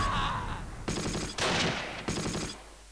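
Machine gun fire in the Close Combat: Wacht Am Rhein war game, loud close bursts of automatic fire in three or four rapid volleys, each cutting off sharply, with no talk over it.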